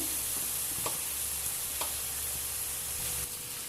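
Boiled rice, coated with a little butter, tumbles into a hot buttered pan for Chicken Arabic Rice and is stirred, giving a steady close sizzle with a few soft scraping knocks.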